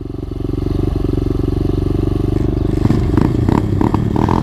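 A 125cc pit bike engine idles in a rapid even putter, then climbs into a revving launch with clattering near the end, loud and close.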